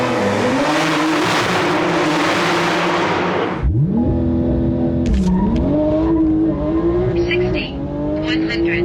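A Porsche 992 with a bolt-on performance kit roars loudly on a quarter-mile run, climbing through the revs, then dropping and rising again as gears shift, with tire noise and a brief whine near the end.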